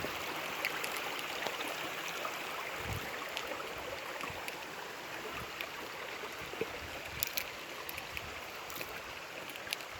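Steady rushing creek water at a hiking trail crossing, running high, a continuous broadband flow with occasional small splashes and clicks, moderately near.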